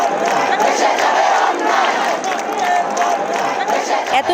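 A massive crowd at a Dhaka protest gathering during Bangladesh's July uprising, loud shouting and chanting voices blending into a dense, close roar throughout.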